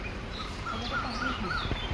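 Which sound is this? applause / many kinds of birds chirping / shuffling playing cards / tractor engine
many kinds of birds chirping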